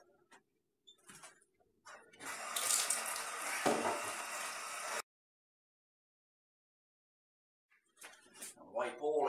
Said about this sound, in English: Now I'm going to rinse this